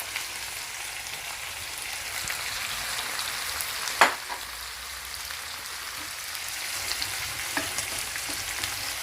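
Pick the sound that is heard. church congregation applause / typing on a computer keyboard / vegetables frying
vegetables frying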